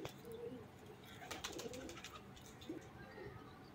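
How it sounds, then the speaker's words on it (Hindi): Rampuri pigeons coo in soft, low bursts amid a busy background with faint chirps and clicks, several birds nearby and no voices. "बेमिसाल और बेमिसाल कबूतर हैं रामपुरी कबूतर"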